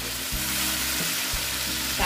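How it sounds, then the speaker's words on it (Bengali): Frying for pabda fish tel jhal: a continuous close sizzle in a pan with a few scraping stir strokes over about two seconds, no talk. "এটা আমাকে ভালো মতন একটু ভেজে নিতে হবে।"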